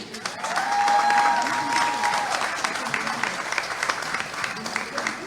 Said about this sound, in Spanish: Me quiero pedir un fuerte aplauso para Lorena Schwengel.